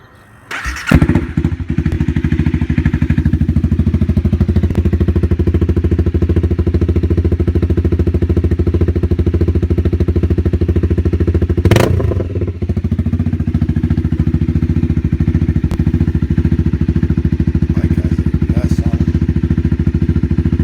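A 2017 Honda CB300F motorcycle cold-starts with a brief crank and catch, then settles into a loud, steady, close single-cylinder idle with a short blip partway through.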